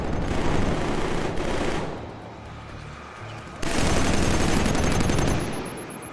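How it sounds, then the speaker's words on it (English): Rapid, sustained anti-aircraft gunfire from the AA gun in Killzone 3, a loud dense barrage that drops back briefly before surging again at full strength. "Gotta turn that AA gun off, I think it's too loud."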